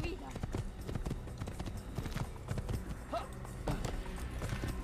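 Galloping horse hooves pound rhythmically in the video game Assassin's Creed, a quick run of hoofbeats, with someone speaking German over them.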